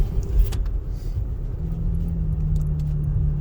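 A 2023 Toyota Tacoma pickup truck engine hums low and steady as it slowly picks up speed, with a faint rattle early on and no talking.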